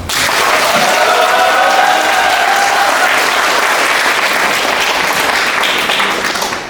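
A lecture audience welcomes a journalist speaker with loud, sustained applause, a thick wash of many hands clapping that holds evenly throughout before easing slightly at the end.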